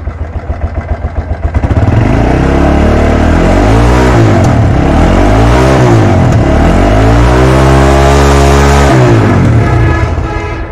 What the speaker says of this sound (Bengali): গাড়িটির সাউন্ড শুনে বুঝতে পাচ্ছেন ইঞ্জিনের কী অবস্থা